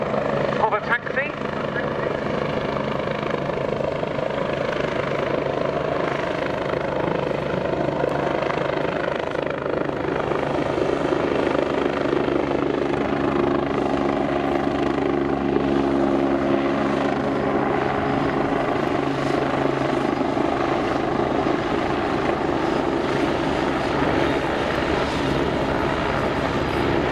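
A Belgian Air Force Agusta A109 helicopter taxis at an air show, its rotor and turbine droning loudly and steadily throughout, with a commentator's voice over the public address underneath.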